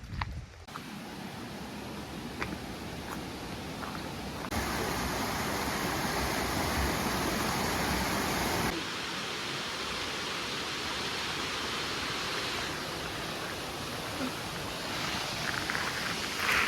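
Toccoa Falls, a waterfall in Georgia, roars as a steady, loud, dense wash of falling water, close by and continuous, with no talk over it.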